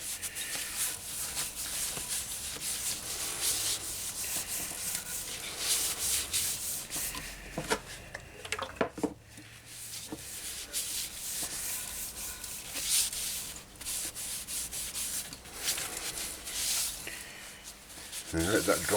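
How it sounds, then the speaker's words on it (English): A wooden fruit bowl spins on a lathe while sanding sealant is rubbed on with a cloth, giving a steady close-up rubbing hiss with brief pauses and knocks partway through. "So second coat of sanding sealant."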